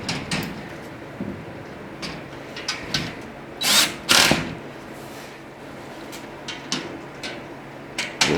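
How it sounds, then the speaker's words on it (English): Cordless power drill driving screws into a garage overhead shelf bracket, with several short whirring bursts and two louder, longer runs midway, interspersed with handling clatter and light knocks at close range; no talking. "Then I'll grab my drill and use the motor to do all the hard work."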